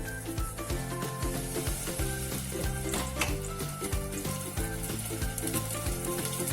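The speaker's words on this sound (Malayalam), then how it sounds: "നമ്മൾ അതിലേക്ക് കുറച്ച് വെളിച്ചെണ്ണയാണ് ഞാൻ ഒഴിച്ചു കൊടുക്കുന്നത്." Coconut oil sizzles and crackles in a hot pan on the stove, a steady close frying hiss with small pops and occasional stirring scrapes throughout.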